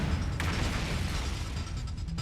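A muffled explosion rumbles through a video game scene in The Hundred Line Last Defense Academy, a dense low boom with a sharp pop near the start, then a sustained roar that stays steady and loud for a couple of seconds.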